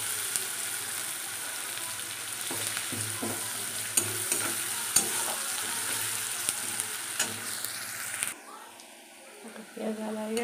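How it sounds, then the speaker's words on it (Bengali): Onions frying in oil in a pan after a garlic tempering, a continuous close sizzle with scraping stirring strokes and clacks, with a voice talking over it, the sizzle cutting off near the end. "পেঁয়াজটা হয়ে গেলে লাল লালটা ভাজা হয়ে গেলে ওর টমেটো দিয়ে দেবো।"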